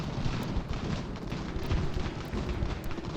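Cannon fire rolls through a battle in Ultimate General: Revolution, with overlapping booms and explosions forming a loud, steady rumble and no voices.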